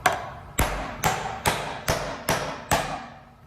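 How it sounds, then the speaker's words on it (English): Seven evenly spaced hammer blows drive a nail into a wooden joist, each a crisp, close knock with a short ring, falling in a steady rhythm about half a second apart. "I'm going to put me a nail here first"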